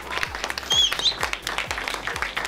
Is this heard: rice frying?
no